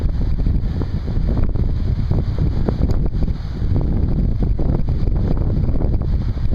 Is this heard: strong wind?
yes